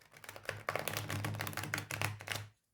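A stiff new tarot deck, La Corte dei Tarocchi by Il Meneghello, is shuffled by hand, giving a soft, close, continuous run of card flutters and clicks that stops abruptly.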